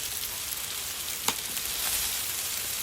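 Chicken thighs stuffed with asparagus frying in a pan, a steady broadband sizzle going without a break, with one faint tap partway through and no talk.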